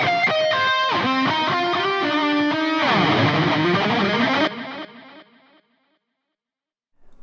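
A distorted electric guitar solo with a delay effect, melodic sustained notes followed by repeating echoes that trail off into silence, then a faint new sound at the very end.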